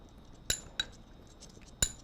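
A chili and smoked paprika spice rub being mixed in a bowl, a few sharp, bright clinks of a utensil against the dish separated by short pauses, close and isolated over a quiet background.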